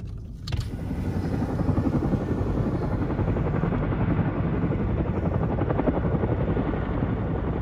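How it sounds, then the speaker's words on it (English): A firefighting helicopter refilling with water roars loudly and steadily nearby during a wildfire near a ski resort, its rotor thumping under a dense, continuous engine drone. "there's a chopper filling up with water"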